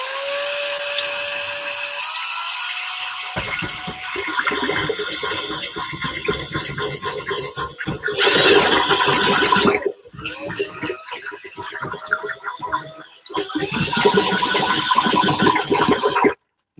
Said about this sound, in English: Now we're going to mix it up with the drill.